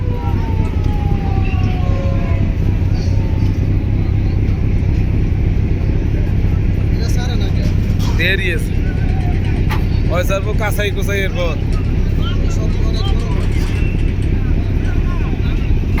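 A boat's engine drones loud and steady as vessels pull away after the Charmonai mahfil gathering, with horn-like blasts and a voice talking over the rumble.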